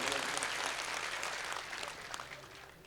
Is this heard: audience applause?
yes